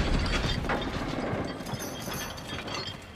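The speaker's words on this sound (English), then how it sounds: "Raise the chandelier." A chandelier is hoisted by a chain mechanism in Uncharted 4, giving steady, dense ratcheting and clanking of metal links and gears that runs throughout at close range, with no voices.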